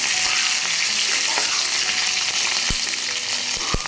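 Green cardamom, green chillies and mint leaves sizzle and fry in hot oil for coconut rice, a loud close continuous crackle with a few sharp stirring knocks and no voices.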